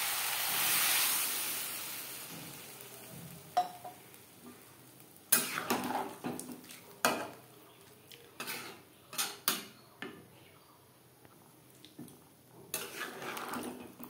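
Water poured into a pan of potato and young jackfruit curry cooked with spices, giving a brief hiss at the start, then quiet scattered clinks and scrapes of a utensil stirring against the pan.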